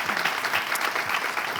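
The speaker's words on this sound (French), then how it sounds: "Est-ce qu'on peut applaudir pour eux, s'il vous plaît?" Dense, lively applause from an audience at a morning youth event, many hands clapping rapidly and close for a brief burst.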